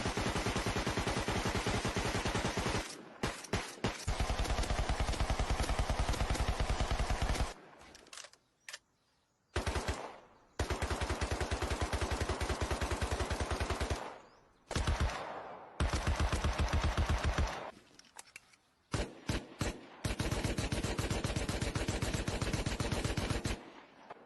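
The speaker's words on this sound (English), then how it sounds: "This is a nasty motherfucking machine gun." A machine gun fires into a house during the war in Ukraine, with loud sustained bursts of automatic fire broken by short pauses, close and harsh across about two dozen seconds.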